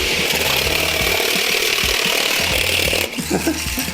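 A toy tracked vehicle's small electric motor runs with a loud steady buzzing whir and rattle close by, briefly dipping and shifting near the end.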